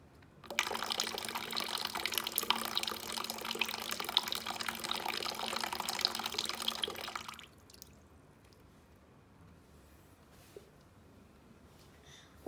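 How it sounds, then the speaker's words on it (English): Water drains from a straw in a bottle once the cap is opened: a close, steady trickling rush lasts about seven seconds, then stops abruptly, leaving near silence and a faint click at the end. "when we open the bottle's cap, water drains out from the straw"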